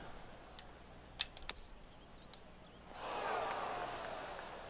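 A PGA 2K25 golf video game crowd reacts to a golf shot, a soft swell of cheering and applause rising midway and holding, heard faint and distant after a couple of quiet clicks.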